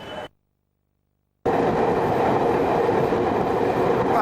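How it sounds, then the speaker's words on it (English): A passenger train crosses the Thar Desert in western Rajasthan, India. A brief burst cuts to silence, then a steady close rolling rumble with faint clickety-clack from the wheels carries on under no talk. "now we're travelling by train, as you can hear, across the Thar Desert in western Rajasthan"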